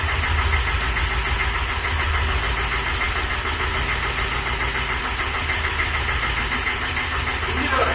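A motorcycle engine runs with a steady, loud, even thrum after being kick-started with the decompressor loaded, filling the whole stretch without a break.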